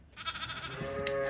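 Young lambs on a sheep farm bleat in a quick series of short, nasal cries, close by, with steady barn background and no talking.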